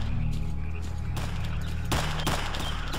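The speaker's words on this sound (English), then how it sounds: "We can hear the gunshots in the background." Distant gunfire pops sporadically in STALKER: Clear Sky, a few faint shots and short bursts set against a dense, steady ambient hum of frogs and swamp background.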